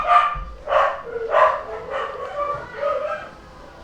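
A dog barks repeatedly in a steady series of about six sharp, mid-pitched barks, fairly close, with no talking.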